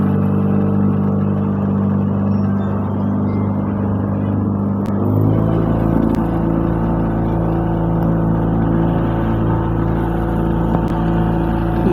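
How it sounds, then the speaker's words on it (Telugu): A boat motor runs steadily, pushing the boat forward with a continuous low engine rumble and whir that deepens and thickens partway through, close and even in level. "ఈ మోటార్ వల్లనే బోట్ అనేది ముందుకు వెళ్తుంది"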